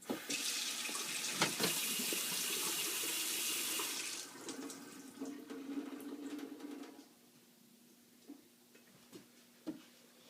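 Cold water gushing from a kitchen faucet under a counter, a loud steady rush for about four seconds that drops to a softer trickle, then stops, leaving faint clicks and small knocks.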